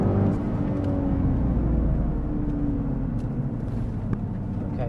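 A race car passes on a track, a loud steady engine drone with shifting pitch that stays near and prominent throughout, without talk.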